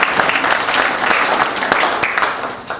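A banquet audience at a high school spring sports event clapping, a steady wash of many hands applauding together that fades slightly toward the end.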